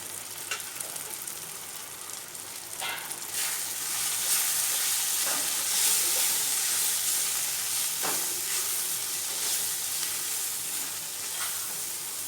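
Turmeric, coriander and red chilli powder sizzle in a pan with onion while being stirred, a continuous close frying hiss broken by occasional scraping strokes of the spoon.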